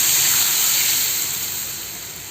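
Hot oil poured into parboiled rice flour to make murukku dough gives a steady, close, bright hiss that slowly fades over a couple of seconds, with no talking.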